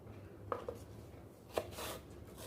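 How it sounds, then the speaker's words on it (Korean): A knife slices a small young Korean zucchini, picked from a home garden, into half-moons on a cutting board, giving a few sparse, close, crisp chops with quiet gaps between them. "이건 아주 작은 거라서 반달 모양으로 썰어줍니다"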